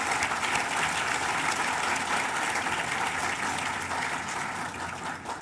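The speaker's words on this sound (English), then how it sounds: "please join me in giving them a round of applause" Sustained applause fills a charity luncheon hall, a broad, dense wash of clapping from the audience that stays strong and fades slightly toward the end.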